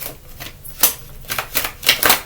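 Deck of cards shuffled once by hand during a card reading, giving a quiet run of short papery riffle bursts in quick clusters, no talking over it.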